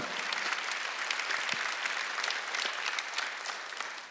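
A church congregation at a Sunday worship service claps in a sustained, even burst of applause that fills the room and fades slightly at the end.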